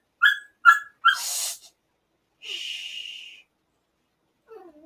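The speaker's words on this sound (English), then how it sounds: "you are hearing puppies whining in the background because they are not happy that they're in their crate" Puppies whining in a crate, high thin cries: three short yelps in quick succession, then a longer whine, a pause, and a faint trailing whimper at the end, heard alone in a quiet room.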